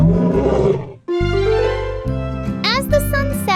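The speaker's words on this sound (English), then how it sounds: "Lions live in families called prides, and their roar can be heard miles away." A lion's roar, heavily stylised and mixed with melodic, tonal sounds in a children's animal guessing game, comes in loud layered bursts, the first followed by a short gap and then sustained harmonic roaring.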